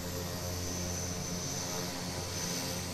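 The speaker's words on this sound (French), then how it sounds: "avant de s'envoyer en l'air, il faut prendre de l'altitude, en avion, et ça fait du bruit" A skydiving airplane climbs to altitude, its engine droning in a steady, even hum that stays constant and fairly faint throughout.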